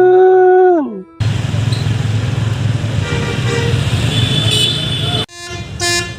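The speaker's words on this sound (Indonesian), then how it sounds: "Kali ini ada bus Arimbi teman-teman" An Arimbi bus passes by on the road, its broad engine rumble rising loud and close after a two-tone horn melody, then cutting off abruptly with a brief fainter tail.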